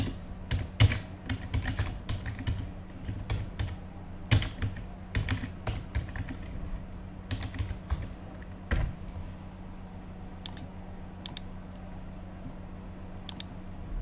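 A computer keyboard is typed on while entering a class duty schedule in Word, with irregular bursts of close, crisp key clicks that thin out toward the end, alone without any speech.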